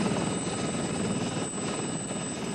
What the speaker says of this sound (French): Trois hélicoptères de la police décollent de la capitale croate